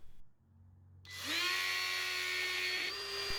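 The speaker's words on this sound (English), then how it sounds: "The old Ryobi trim router is really starting to struggle these days." An old Ryobi trim router fitted with a flush trim bit switches on and spins up to a loud, high, steady whine, running continuously up close with a slight strain in its pitch.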